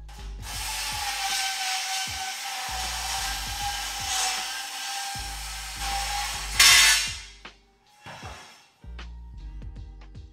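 Wooden boards being cut to four-foot lengths for a solar panel pole mount, a loud, sustained buzzing power-saw run with a harsh burst near the end, then the motor winding down and a short restart.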